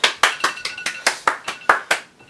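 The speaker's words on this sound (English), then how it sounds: "If you're not clapping, you're not doing it right." A group of people clap at the close of a home combat training session, giving about ten sharp, evenly spaced claps that sound close and fairly loud, with no voices over them.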